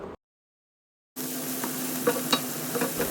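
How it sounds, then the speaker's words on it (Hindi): A steady sizzle of masala paste with yogurt frying in a pan, with light scraping stirs and a few crackles, after a brief silence at the start. "अब मैं इसको अच्छी तरह से भून लूँगी"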